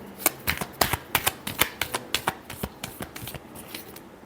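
Tarot cards are shuffled by hand in a rapid series of crisp riffling snaps, close and fairly quiet, with about twenty distinct flicks over a few seconds.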